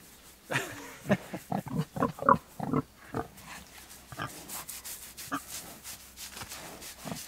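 Free-range homestead pigs grunt and snuffle at a scratching tree, a run of close, irregular oinks and snorts, then quieter rustling and shuffling.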